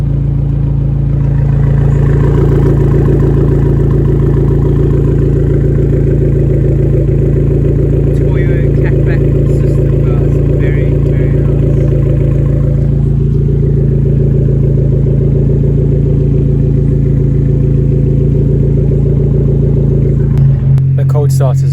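An Abarth car's engine runs loud and close at a steady idle, a deep continuous drone with a slight shift partway through, cutting off abruptly near the end.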